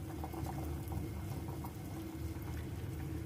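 Klepon glutinous rice balls boil in a pot of water with a steady, close bubbling rumble that never pauses.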